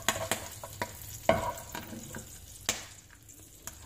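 Curry leaves and hing powder splutter in hot oil, with scattered sharp pops and crackles over a low sizzle and a few louder bursts, heard up close with no talking.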